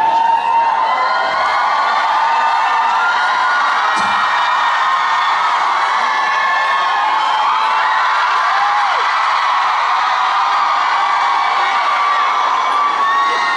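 A concert crowd in Busan cheering for a performer: a loud, steady wall of shrill screams and whoops that holds without a break throughout.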